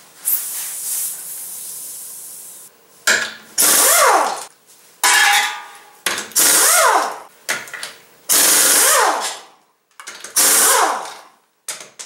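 Pneumatic impact wrench taking the front wheels off a car on jack stands: loud close bursts of hissing air and rattling hammering, each rising and falling in pitch, repeated in short runs separated by pauses, with no talk.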